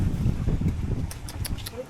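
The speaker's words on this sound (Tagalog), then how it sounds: "Grabe, lakas ng hangin naman." Strong wind buffets the microphone in low, rumbling gusts, with a few brief clicks and a faint voice near the end.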